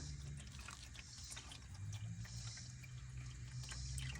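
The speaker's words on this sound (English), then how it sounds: "there it is with the oil draining out of it" Motor oil drains from the oil pan of a Mercedes GLC 43 during an oil change, making a steady, quiet trickle and pour that runs unbroken throughout over a low background hum.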